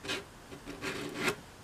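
Sandpaper rubs across wood while an archtop guitar is restored, giving about four short, close rasping strokes in quick succession with no talking.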